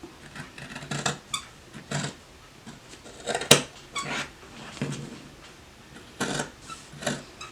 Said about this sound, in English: You're just going to take your scissors and you're going to cut that out.